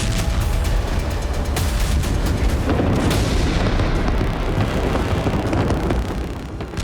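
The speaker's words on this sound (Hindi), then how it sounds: "कहीं जोरदार धमाकों के साथ आग का गुब्बार उठता नजर आए" Explosions from airstrikes on southern Lebanon, heard as a loud, dense, continuous rumbling roar with heavy low booms and wind-like buffeting, sustained throughout before easing slightly at the end, with no voices.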